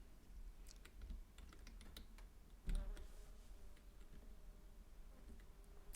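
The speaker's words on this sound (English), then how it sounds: "So I'm just using the arrow keys." Computer keyboard arrow keys are tapped while playing a game, giving a run of quiet, uneven clicks with one sharper, louder press midway, and no voices.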